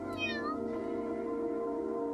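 A black cat meows once, a clear rising-and-falling call up close, followed by a quiet, steady background hum.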